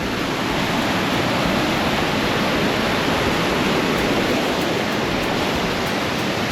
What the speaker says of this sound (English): Another trailside waterfall.